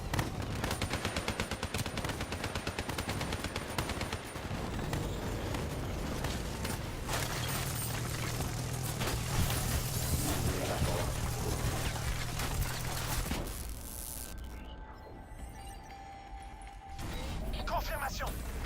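Rapid bursts of automatic gunfire and explosions from a Call of Duty Black Ops 3 battle, dense and continuous with machine-gun rattle, a sustained rumble in the middle and mechanical clatter near the end, with game voices calling out over it.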